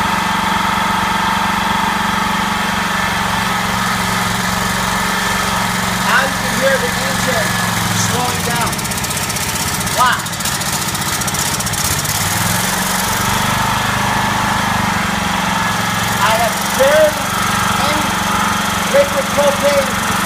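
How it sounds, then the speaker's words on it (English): A propane-fed engine idles steadily with a low, continuous hum and slight variations in its note, running close by throughout with no speech over it. "propane being fed to this engine"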